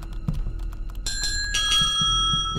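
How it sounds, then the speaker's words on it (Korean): A doorbell rings in the video game Hello Neighbor with two bright, ringing chime tones close together that sustain and decay over a faint background of soft game noises. "초인종 누르는 거 보면 저 아저씨 집 맞는 것 같기도 하고"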